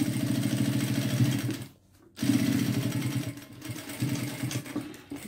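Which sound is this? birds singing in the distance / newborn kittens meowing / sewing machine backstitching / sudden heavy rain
sewing machine backstitching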